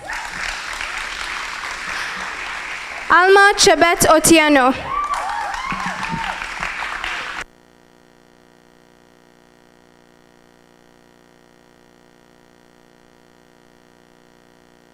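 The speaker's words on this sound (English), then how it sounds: "A round of applause, please" Sustained applause for senior school graduates at an Oshwal Academy Mombasa virtual graduation fills the first half, with a single voice announcing a name over it, then cuts off abruptly into near silence with faint hum.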